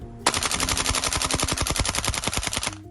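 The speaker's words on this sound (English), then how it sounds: "You expect it to be able to clear a mag on a mag dump." A VFC FAL full-steel gas blowback airsoft rifle fires a sustained full-auto burst of about two and a half seconds, a rapid, evenly spaced clatter of shots, close and loud, with no talking.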